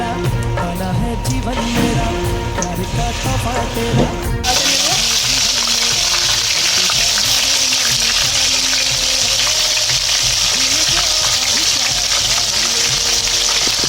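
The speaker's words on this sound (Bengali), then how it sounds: "তেল গরম হয়ে গেছে, এবার একটা একটা করে লোটে মাছের পকোড়া ছেড়ে দিচ্ছি।" Lote (Bombay duck) fish pakoras are dropped one by one into hot oil for deep frying. A few clattering drops are followed by a loud, steady sizzle that fills the rest of the clip.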